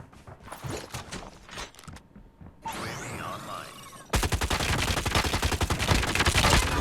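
Gunfire in the mobile shooter game Call of Duty Mobile: scattered shots and game effects give way to a loud, sustained stream of rapid automatic bursts that continues to the end.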